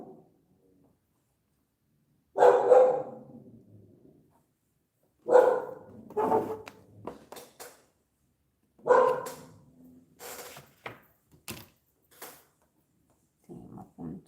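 Several dogs bark in repeated bursts close by, loud clustered barks separated by quiet gaps, with a few sharp yips toward the end.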